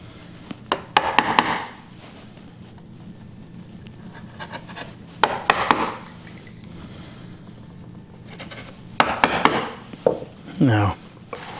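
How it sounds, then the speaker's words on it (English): A mortise chisel chops into wood to cut a mortise for a mortise and tenon joint by hand, sharp mallet strikes falling in quick clusters of three or four, close and crisp, with scraping between bursts. "Try to keep that chisel from twisting."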